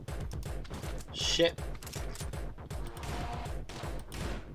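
Rapid bursts of gunfire crackle in the video game Angry Foot, coming in quick repeated volleys with a sharper crash midway, while a voice talks over them.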